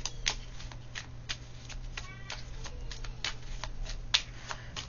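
Playing cards riffled and dealt from a deck during a French-language tarot-style reading, a steady run of crisp papery flicks and snaps close to the mic, with a low electrical hum underneath.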